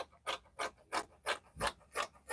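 Fabric for a bustier dress with a fitted and flared skirt being cut, heard as about seven evenly spaced rasping strokes, close and fairly quiet, with no talking.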